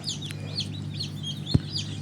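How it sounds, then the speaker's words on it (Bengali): Tiger breed chicks in a hatchery setting give soft, steady high peeping chirps throughout, with a low mechanical hum underneath and one brief thump near the end. "এগুলো হচ্ছে টাইগার মুরগির বাচ্চা"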